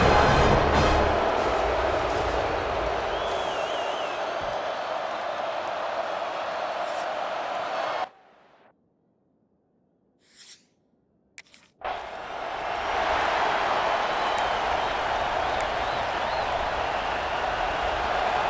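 Stadium crowd noise from an EA Sports College Football game between Ohio State and Oregon, a loud sustained roar that drops out briefly midway before surging back just as strong.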